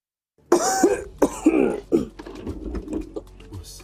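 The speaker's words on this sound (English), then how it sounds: "I've had this cough for more than 2 weeks." A person coughing in a radio advert, a series of harsh, close coughs and throat-clearing bursts, the first few loud and rapid, then tapering into fainter rasping sounds.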